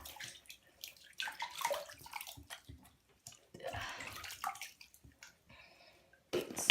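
Water splashes and sloshes in a bathtub in irregular bursts, with drips and gurgles between them, close and fairly loud, with no talk over it.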